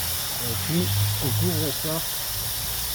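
Water thrown onto a hot plancha griddle: a steady, broad steam hiss that stays loud and constant beneath a man's brief speech.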